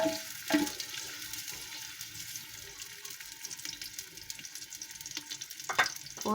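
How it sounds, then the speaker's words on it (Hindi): Chopped onions sizzle and fry in a pan, a steady soft crackle with occasional louder stirring scrapes, close by and with no talking. "प्याज को सुनहरा कलर आने तक पकाएंगे"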